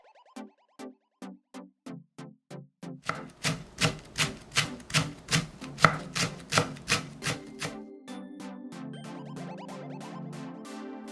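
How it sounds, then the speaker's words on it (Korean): Kitchen knife chopping the white part of a green onion on a board for cold spicy noodles: a steady series of close, even knocks that quickens into a rapid, louder run, then eases off. "대파 흰뿌리 1개는 2번 갈라서 작게 썰고"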